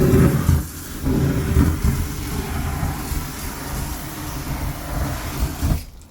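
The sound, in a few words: jet flame torch on barbecue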